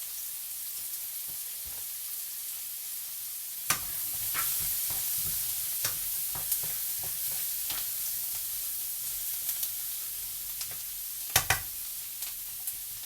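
Onions sizzle steadily in a pan for a Moroccan bean soup, a soft continuous hiss broken by sharp clicks and taps of stirring, with no voices.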